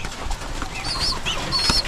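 Pigeons coo close by, soft low throaty calls repeated a few times, with a faint higher chirp mixed in.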